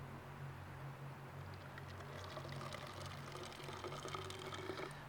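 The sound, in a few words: pouring percolated coffee out of hiking pot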